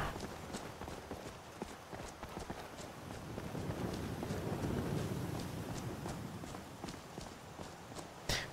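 Footsteps on an outdoor path in Skyrim, a regular series of crisp steps under a soft wind-like background, moderately close and steady throughout.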